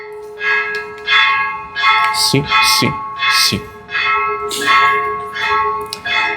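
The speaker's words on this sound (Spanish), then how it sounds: "Aprovechamos esta pausa en lo que pasan las campanadas." Church bells ring in a steady, loud series of strokes that carry on throughout, with a person speaking briefly over the pealing.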